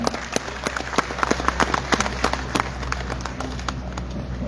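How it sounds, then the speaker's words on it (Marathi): An audience claps in welcome for a guest at an honour ceremony in Latur, scattered hand claps building into steady moderate applause heard from a short distance, with a faint background hum. "आपल्या सर्वांना विनंती करतो की टाळ्या वाजवून आपण स्वागत करूया"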